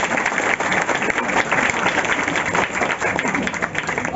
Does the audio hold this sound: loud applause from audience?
yes